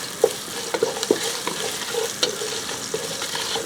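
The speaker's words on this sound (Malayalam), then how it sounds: "ഇഞ്ചി പച്ചമുളകും കൂടെ ചേർത്തതിന് ശേഷം ഒന്ന് ഇളക്കി കൊടുക്കാം" Ginger and green chilies being stirred as they fry in a pan for Kerala coconut rice, a continuous sizzle broken by sharp scrapes and taps of the spoon, close and without voices.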